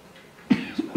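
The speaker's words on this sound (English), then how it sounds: "Coughing." Three quick coughs, close and fairly loud, after a quiet stretch of room noise; the first is sharpest, the next two follow in short succession.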